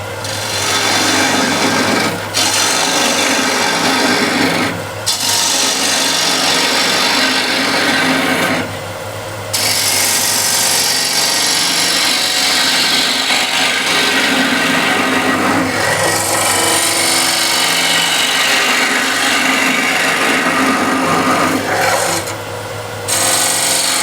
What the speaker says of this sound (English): All you want to do is just remove the excess wood on the inside. Use first is ball gouge here.